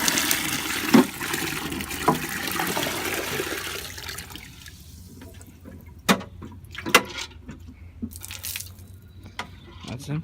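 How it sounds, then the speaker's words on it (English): Water pours from the small spout of a dehumidifier tank in a steady splashing stream that thins to scattered drips and trickles, with a few louder splashes near the end. "It's got the little spout, you just pour water out."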